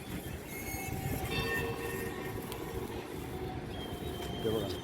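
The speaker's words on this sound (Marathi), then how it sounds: "ही ट्रेन दिसते ना" A train rolls past with a steady rumble and rattling wheels, a faint squeal riding above the noise, heard from a moderate distance up a hill near the Mazgaon Gavdevi temple.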